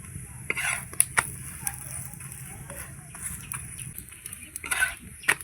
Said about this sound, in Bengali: এইভাবে চেপে চেপে ভাজবো।